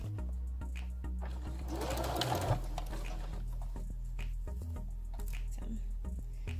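A sewing machine runs steadily, stitching a side seam beside elastic on a tube dress, its fast rhythmic whir continuous and close throughout with no talk.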